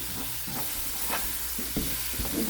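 Spices and black pepper sautéing in a pan for a chayote and spinach dish, a steady close sizzle with soft stirring scrapes at intervals.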